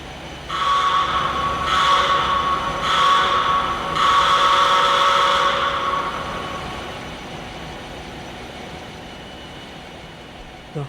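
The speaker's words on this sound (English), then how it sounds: "Little Joe locomotive E70." Milwaukee Road Little Joe electric locomotive E70 at Avery substation, giving a series of loud, sustained tonal blasts with a strong harmonic ring, three or four in a row, then fading into a low background rumble.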